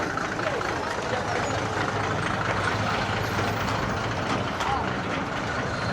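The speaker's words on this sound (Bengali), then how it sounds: "আরেকটা গরুর ট্রাক আসতেছে, আমরা একটু দেখাই আপনাদের।" A livestock truck loaded with cattle pulls into a busy cattle market, its engine a steady rumble beneath crowd noise and nearby chatter, with faint beeping mixed into the constant din.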